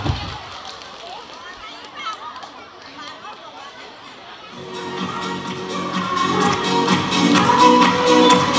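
Audience applause at a parish Christmas concert night, opening on low murmuring crowd noise before a dense wave of clapping rises and holds strongly to the end.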